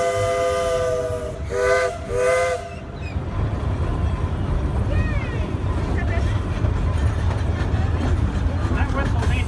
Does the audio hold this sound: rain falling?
no